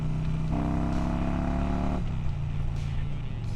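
A motorcycle engine idles and runs steadily up close, a continuous low droning hum with a slight rise in pitch partway through, loud and without talk.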